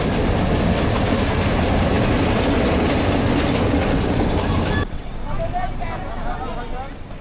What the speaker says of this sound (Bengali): ট্রেন চলে আসছে, আমি এখন ট্রেনে উঠবো